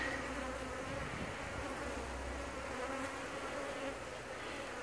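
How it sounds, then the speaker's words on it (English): Agitated honey bees swarm around a tree in Zephyrhills, Florida, making a continuous, dense buzzing. The drone is faint and steady, with no voices. "these bees are especially agitated in this tree"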